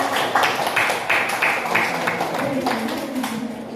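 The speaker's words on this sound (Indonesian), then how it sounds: "silakan tepuk tangan dulu biar semangat" A group of participants clapping together in a classroom session before a group presentation, a lively run of claps at moderate loudness with some voices murmuring underneath.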